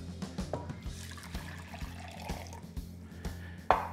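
Hot water pours in a steady stream into a container for pickling red onions, fairly quiet, with a short louder splash near the end.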